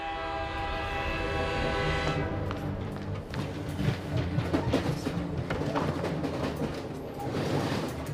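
A train rumbles with a sustained horn blast for the first couple of seconds, then rolling rail clatter and mechanical noise continue steadily.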